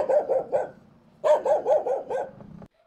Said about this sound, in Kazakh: Бұралқы иттер көбейді.